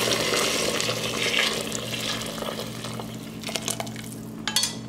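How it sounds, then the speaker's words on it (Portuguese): Water poured into a pressure cooker holding browning meat and vegetables for a vegetable soup, a steady close splashing wash through the first seconds, with a few light clinks of the pot toward the end. "E agora eu vou colocar a água."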